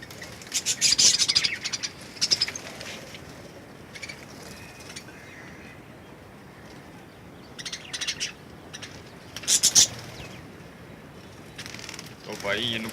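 Pet parrots give scattered bright chirps and tweets in short bursts, near and moderately loud, with quiet stretches between calls and a low background murmur.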